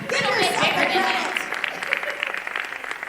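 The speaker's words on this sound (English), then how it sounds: "Round of applause for you" Audience applause at a Power Rangers fan Q&A, a dense burst of clapping from a crowd that starts full and thins into scattered claps over about three seconds, with some voices mixed in.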